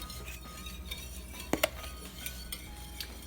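A metal spoon stirs a French toast egg mixture in a bowl in a home kitchen, soft scraping with a few sharp clinks against the side, faint and close.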